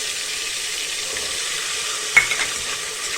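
Val and tuvar beans sizzle in hot tempering oil for undhiyu, a steady frying hiss with a sharp burst of crackle partway through as they are stirred.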